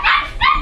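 Labradoodle puppies give two short high barks or yips in quick succession, fairly loud and close, over a faint low background.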